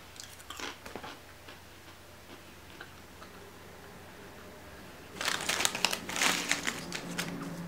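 Potato chips from a Russian snack box being chewed, with faint crunches early on and then a loud cluster of close, crisp bites and chewing in the last few seconds.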